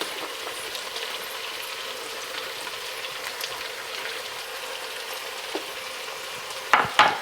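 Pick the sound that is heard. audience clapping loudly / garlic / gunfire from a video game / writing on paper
garlic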